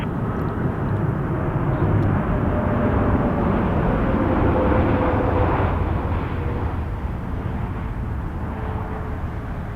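A Boeing 747 jet airliner on its landing rollout at Toronto Pearson Airport, a loud, steady, broad engine roar that holds constant throughout, heard from a distance with no talk.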